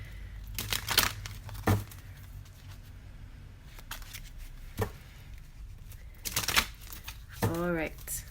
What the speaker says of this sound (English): We're gonna try to shuffle the feather cards.